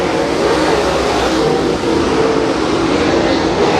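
Dirt late model race cars roar around a track during the MLRA Fall Nationals, a loud, steady, dense engine drone from several cars with no pause and no talk.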